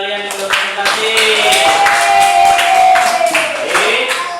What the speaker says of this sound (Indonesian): berikan tepuk tangan untuk teman-teman kalian yang sudah presentasi